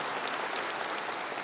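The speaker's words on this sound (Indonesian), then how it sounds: "Tepuk tangannya boleh yang paling meriah buat Tuhan kita." Brief burst of lively, dense clapping from a church congregation applauding in worship, loud and continuous with no voices.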